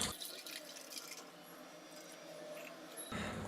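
Water pours in a steady, gentle stream into a container holding ice, for grape sherbet, splashing softly for a few seconds without any talking.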